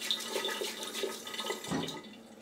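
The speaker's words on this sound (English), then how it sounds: "I'm gonna wet the face again" Water is splashed by hand onto a face during a wet shave, close soft splashing and dripping that lasts a couple of seconds before fading.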